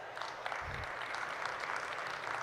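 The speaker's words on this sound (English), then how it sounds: "I think we need a big round of applause for that." Applause from an audience at a coffee-themed conversation event with Dr. Chetan Kumar Mehta, a steady dense wash of many hands clapping that holds evenly throughout.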